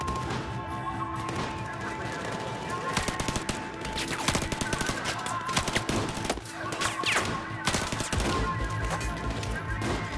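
Rapid gunfire from the video game Battlefield 4: dense machine-gun bursts and overlapping single shots crackle almost nonstop, with sharp louder cracks standing out against a busy battle din.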